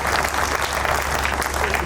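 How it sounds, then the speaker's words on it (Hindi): A crowd applauds a poet at a Hindi patriotic poetry stage show, with steady, dense clapping throughout the short stretch and no pause. "एक बार जोरदार तालियां उनके लिए बजाइए"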